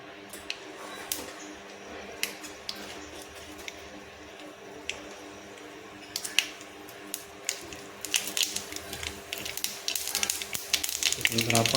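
Mustard seeds dropped into hot oil in a pan while cooking, a steady sizzle under a low background hum, growing louder with crackling pops toward the end.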